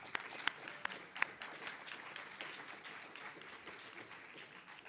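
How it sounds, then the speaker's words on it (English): A summit audience applauds for itself, with a few sharp nearby claps at the start over a sustained, fairly faint ripple of clapping across the room. "So give a round of applause for yourself."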